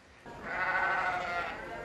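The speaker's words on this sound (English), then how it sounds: "These kids show their sheep to an impressed judge." Sheep at a county fair livestock show give a single drawn-out, wavering bleat, fairly close and clear above a quiet background murmur.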